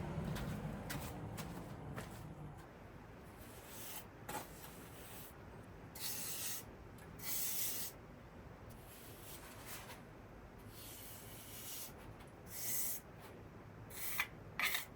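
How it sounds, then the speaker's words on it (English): A trowel scrapes and rubs mortar across a wall while rendering outdoors, in intermittent bursts of rasping strokes with quiet pauses between them, close and fairly faint. "now I have mortar left over, so I'm gonna start to render the other side"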